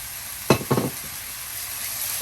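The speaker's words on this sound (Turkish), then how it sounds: "annem Soğanı hafif soteledi. Bir hakiki zeytinyağda." Onion and chopped spinach sizzle in real olive oil in a home kitchen pan, a steady close frying hiss broken by a couple of brief stirring clatters.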